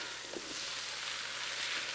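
Garlic sizzles in oil inside a Ninja Foodi multicooker while being stirred, a steady close-up frying hiss with faint scrapes of the spoon and no talking.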